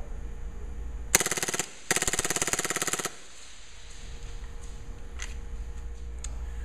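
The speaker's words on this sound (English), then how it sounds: "The realism, the gas blowback, you can feel it, and now I'm going to fire it on full auto." Airsoft M4 replica gas blowback rifle fires two close, loud full-auto bursts of rapid clattering shots, the second longer, then quiet room tone follows.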